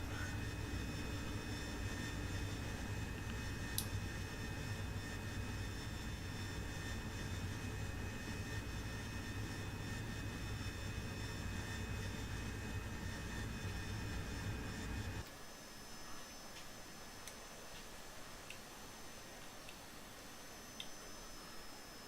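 An AV-8B Harrier jet engine roars steadily during takeoff in the DCS flight simulator, a dense continuous whine and rumble that drops abruptly to a quieter, thinner hum partway through, with no voices.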